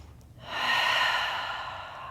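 One deep, audible inhale taken during a yoga stretch, rising quickly and then easing off over about a second and a half, close and clear against a quiet room.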